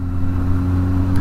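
A Honda Hornet 600 motorcycle engine runs steadily at idle, giving a close, even, low mechanical hum with no change in pitch.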